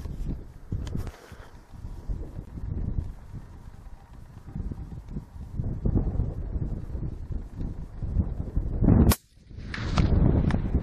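A rifle fires at a target 254 yards away on an open, windy range: one sharp, loud report cracks out near the end over steady gusting wind noise, with a fainter snap earlier.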